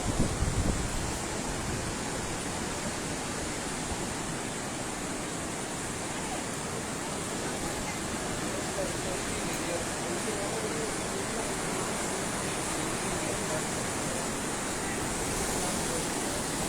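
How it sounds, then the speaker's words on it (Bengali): Sea waves at Chandipur beach, a continuous loud broadband wash of surf with wind on the microphone, steady throughout with a person talking over it. "ঢেউয়ের আওয়াজটা সারাক্ষণ কানে আমার লেগেই থাকছে"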